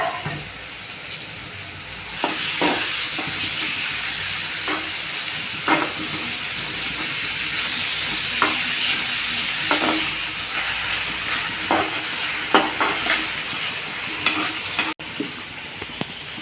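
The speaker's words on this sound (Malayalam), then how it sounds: "സവോള തക്കാളി ഒന്ന് വഴന്ന് കിട്ടിയിട്ടുണ്ട്" Chopped onion and tomato sauté in a pan for a Kerala-style chicken curry, giving a steady close sizzle with scrapes and clinks from a spoon stirring through it. No one speaks.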